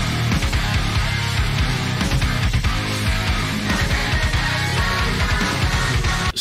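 A song plays as a loud, dense metal recording on a low-tuned 9-string guitar, with chugging riffs and full drums filling the whole stretch with no pause.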